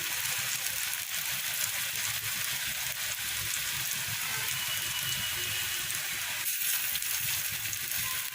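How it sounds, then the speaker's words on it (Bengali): Horse gram fritters fry in hot oil, a steady broadband sizzle and crackle holding evenly loud for the whole stretch with no speech. "তো এক এক করে আমি ভেজে নেব সবগুলো বড়া"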